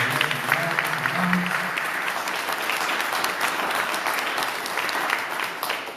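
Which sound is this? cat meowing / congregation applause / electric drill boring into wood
congregation applause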